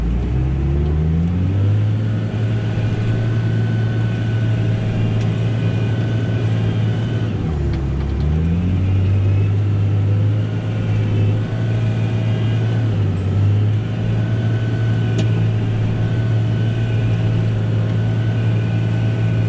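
A tractor pulls a Lemken plough across a fallow field on a Danish farm. Its engine gives a loud, steady diesel drone that sags briefly under load midway and then settles back to an even pitch.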